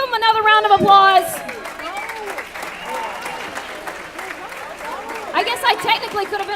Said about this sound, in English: Will you give them another round of applause?